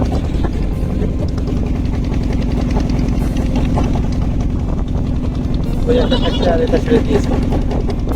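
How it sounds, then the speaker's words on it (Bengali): A ferry boat engine carrying motorbikes drones loudly and steadily throughout, close by, with a constant low hum and broadband roar, while people talk faintly beneath it. "এত ইঞ্জিনের আওয়াজ মারছে তো কিছু বলছি বোঝা যাচ্ছে না"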